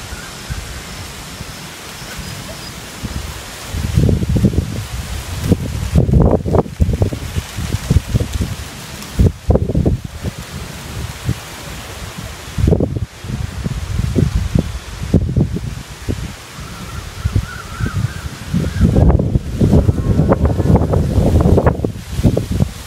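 Leaves rustle and shake in gusts of wind, swelling and fading in bursts, fairly close, with no talking.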